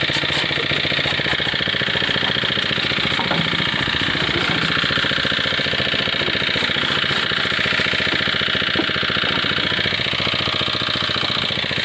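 A John Deere 5050 D tractor engine idles with a continuous close, even mechanical rumble and clatter that runs unbroken throughout, with no talking.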